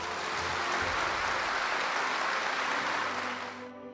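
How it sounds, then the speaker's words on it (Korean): Applause at a Korean government IT agency's 30th-anniversary celebration: a dense, steady wash of many hands clapping together that holds loud for over three seconds, then cuts off abruptly. "스스로 자축하는 박수 한번 치십시다."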